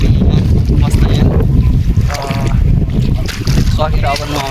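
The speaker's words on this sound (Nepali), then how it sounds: "अब हावा पनि चलिरहेको छ एकदमै" Strong wind buffets the microphone over a flooded rice paddy during transplanting, a loud low rumble throughout, with people talking over it.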